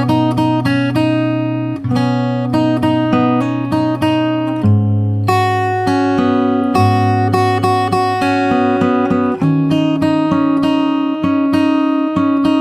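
Fingerstyle acoustic guitar plays the special verse of a song, picked chords with a steady bass and bright melody notes ringing continuously, close and clear with no voice.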